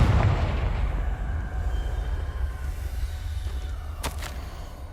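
A Confringo fire spell blast in the Hogwarts Legacy video game lands as a loud, deep booming burst at the start and fades into a rumbling tail, with a brief sharp crackle near the end.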